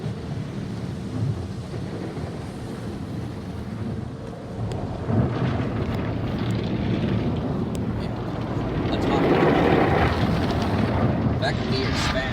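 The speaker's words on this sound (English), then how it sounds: "Next, we're starting up with our hot wax." A MacNeil/AVW custom car wash tunnel in Kingston, NY, applying hot wax: a steady broadband rush of spraying water and machinery that swells louder midway, with people talking over it.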